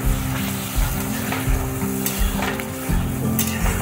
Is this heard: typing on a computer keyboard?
no